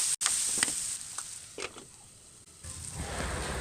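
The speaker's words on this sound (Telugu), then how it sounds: "మనం ఉల్లిపాయలు మాడకుండా వేయించుకుంటూ ఉండాలి" Onions fry in a pan for Telangana-style chicken curry, giving a steady soft sizzle, faint and close, broken by a few brief stirring scrapes.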